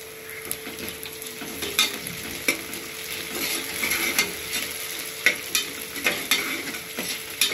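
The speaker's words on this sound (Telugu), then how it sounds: "ఆనియన్ కొంచెం వేగాక పుదీనా వేసుకోవాలి." Onions and fresh mint fry in a pressure-cooker pot for chicken curry, a close, steady sizzle with regular scraping and clicking spoon strokes against the metal throughout. No voices are heard.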